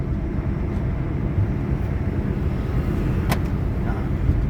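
Steady low engine and road rumble from inside a car driven by a learner at a driving school in Tumakur, continuous and close with no clear speech.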